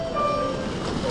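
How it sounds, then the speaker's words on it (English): Metro train arriving at a station in Taiwan on the red line toward Shaogang, a steady rumbling rail drone with a faint high tone drifting over it, heard briefly and fairly close. "I think the train is arriving."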